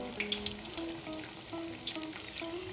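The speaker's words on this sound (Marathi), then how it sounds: "आता आपण गिलक्याच्या भज्याला पलटी मारून घेऊया आणि छान गोल्डन कलर येईपर्यंत तळून घ्यायचे आहे" Ridge gourd bhaji fritters deep-fry in hot oil over a medium flame with a steady close sizzle and bubbling, broken by a few sharper crackles and spits.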